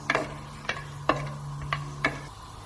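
Whole cinnamon, cardamom and cloves are stirred in hot ghee, with five evenly spaced sharp taps of a spoon against the pan over a soft, faint sizzle, close by and with no talking.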